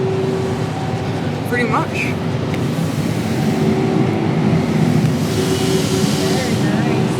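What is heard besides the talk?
car wash tunnel dryers blowing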